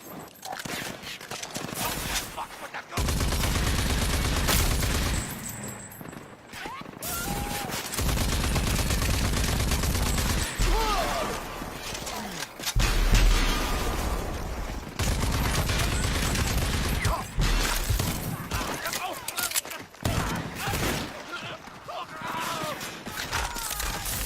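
Gunfire and explosions from the video game RAGE 2: dense, loud bursts of rapid shooting and booming blasts roll on almost without pause, broken by a few short lulls.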